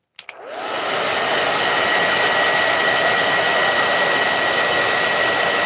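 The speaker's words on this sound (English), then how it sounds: "So I'm gonna turn this hair dryer back on," A hair dryer clicks on with a couple of brief switch knocks, then spins up into a loud, steady close whoosh, drying wet paint on a canvas for several seconds with no talking.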